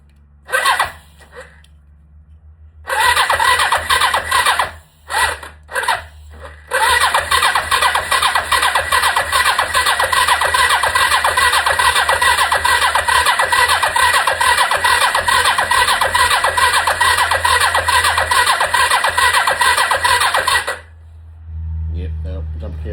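A Kawasaki KZ300 motorcycle engine cranks in a few short bursts, then catches and runs steadily at a loud, even idle for about fifteen seconds before cutting off, close to the microphone.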